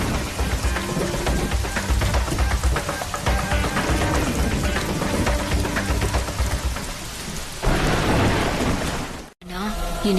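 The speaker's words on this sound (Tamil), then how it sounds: "மழை பெய்ய ஆரம்பிச்சிருச்சு." Rain pours down steadily near a temple, with loud rumbling thunder and dramatic music mixed in, and a brief sudden silence near the end before the sound resumes.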